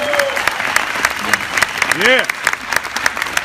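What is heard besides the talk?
audience applause for Patrick Brown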